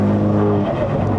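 A Stage 2 tuned F22 BMW 220i with methanol injection, heard during a downshift on a mountain road: a brief, loud engine roar with a breathy whoosh of turbo blow-off, close and continuous.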